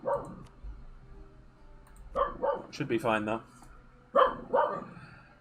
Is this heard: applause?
no